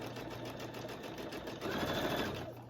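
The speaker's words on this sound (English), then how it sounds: "I'm going to sew right over that line." Sewing machine stitching fabric binding along a marked line, a steady close mechanical whir with rapid needle chatter that grows louder and faster partway through.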